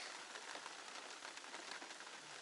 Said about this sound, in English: at the moment the rain is not strong, but it is more coming around the corner.